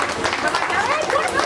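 A crowd claps steadily during a Durga Puja inauguration ceremony, with a voice talking over the brief burst of applause.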